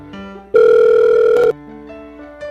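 A telephone rings before a call is answered, sounding as a single loud, steady electronic tone lasting about a second, surrounded by quieter tonal beeps.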